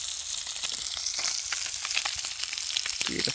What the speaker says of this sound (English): Cooking our blue cod.